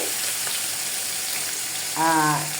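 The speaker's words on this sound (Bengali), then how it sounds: "2 টুকরা ইলিশ মাছ ভাজা হতে থাকুক।" Two pieces of hilsa fish frying in oil in a pan, a steady even sizzle that swells briefly louder near the end, with no talk.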